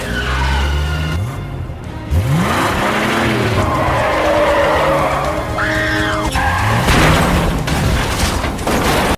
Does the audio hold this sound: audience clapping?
no